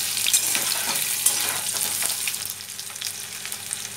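Cut potatoes frying in oil for Bengali drumstick aloo posto, a bright continuous sizzle with light stirring clinks, close and fairly loud with no talk.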